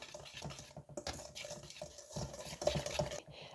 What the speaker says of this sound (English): Whisk it really, really good.